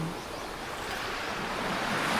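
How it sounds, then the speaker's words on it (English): Ocean surf washing in along the shore at Coney Island, New York, rendered in a Unity tech demo; a steady, broad wash of breaking waves with some wind, continuous and fairly close. "The ocean of Coney Island, New York spreads out in front of you."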